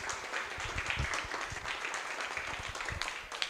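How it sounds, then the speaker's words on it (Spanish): Audience clapping after a data science workshop on real estate sales, a dense steady patter of many hands lasting several seconds at moderate volume with no speech over it. "Un aplauso para este gran taller que nos han dado."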